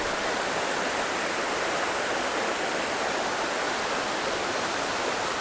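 A fairly large river in an eco forest park rushes on without pause, giving a dense, even roar of flowing water that stays loud and steady throughout.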